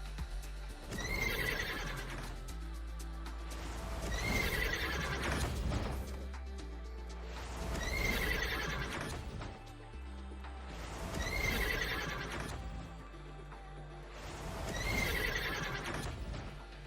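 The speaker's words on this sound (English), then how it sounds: "the horse neighing over and over and over and over and over again" Horse neighing in the video game Diablo, the same whinny repeating over and over at roughly four-second intervals with hoof clip-clops and a low rumble underneath, loud and close with no voices.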